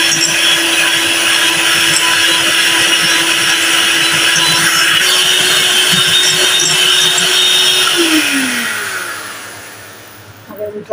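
An electric hand mixer beating cupcake batter with oil and vanilla essence, a loud steady whir for about eight seconds that then winds down and stops, followed by a few small clatters.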